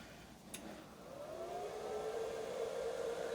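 A steady whirring hum rises gradually in pitch as a milling machine's inverter cooling fan spins up, with a faint click near the start.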